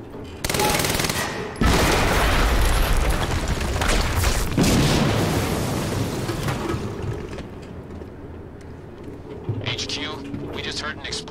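A video game explosion erupts as a loud, sustained roar of blasts and crackling, dense rumbling that slowly fades, with a voice speaking under the din toward the end.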